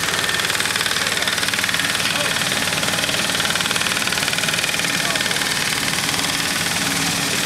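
Olive harvesting machine running steadily in an olive grove in Muro Leccese, picking up olives, its mid-pitched engine droning loud and close without pause.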